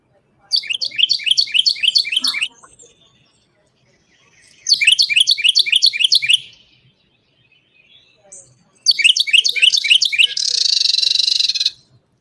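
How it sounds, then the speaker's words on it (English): Three bursts of rapid, repeated chirps from a female bird form quick trills, each lasting about two seconds, separated by silence; the last ends in a brief buzzy rasp. "Did you hear that chirping sound?"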